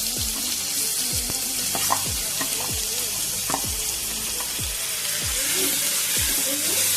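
Chopped ginger and onion sauté in a pan for momos, a broad steady sizzle with a rhythmic series of scraping spatula strokes and soft clinks, close and loud, no speech.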